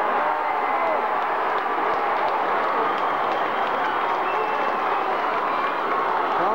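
A crowd at a Gaelic football match between St. Aidan's Cootehill and Ballybay cheers after a point is put over the bar, a broad, sustained roar of applause and shouting that stays loud throughout.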